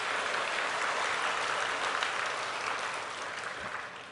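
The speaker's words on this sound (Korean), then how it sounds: "박수 한번 해요." A church congregation claps together during a Sunday sermon, a broad even burst of applause that carries on and gradually tapers toward the end.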